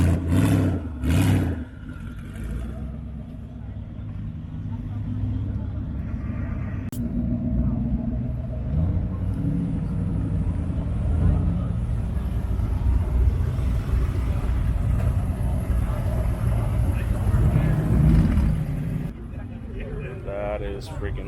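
A twin-turbo LS drag car engine rumbles and revs at a car meet, a loud, sustained low growl with rising and falling throttle, while people talk over it nearby.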